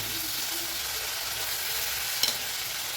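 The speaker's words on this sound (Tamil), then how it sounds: "இந்த ஆயிலே கோவக்காய் நல்லா வதங்கணும் இந்தளவுக்கு நல்லா வதங்குதுங்க" Ivy gourd sautés in oil in a pan with a soft, steady sizzle and occasional stirring. There is one brief scrape near the end, and no voice is heard.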